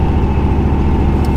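A car with a Speed Engineering stainless steel true dual axle-dump exhaust idles with a deep, steady exhaust rumble, close by and continuous throughout.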